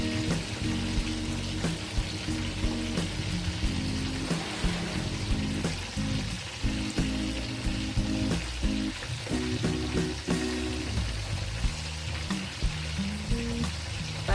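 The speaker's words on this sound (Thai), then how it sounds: "ก็เลย ทอดสองตัวก่อนแล้วค่อยอีก ตัวนึงค่อยทอดหลังนะคะ" Tilapia sizzles and crackles steadily in hot oil, a loud, continuous frying hiss with occasional pops, close by and without talk.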